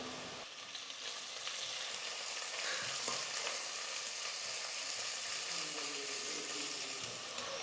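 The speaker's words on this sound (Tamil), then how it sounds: "வெங்காயம் பார்த்திங்கன்னா இந்த மாதிரி நல்லா ப்ரௌன் கலரில் வர வரைக்கும் நல்லா வதக்கி எடுத்துக்கோங்க." Onions sautéing in oil in a pan for tomato rice, a steady close sizzle and crackle with occasional stirring scrapes.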